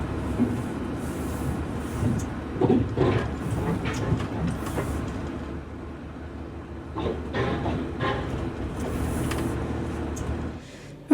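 A train rumbling along with irregular clanks and rattles from the carriages, steady low noise throughout and a sharp bump at the end.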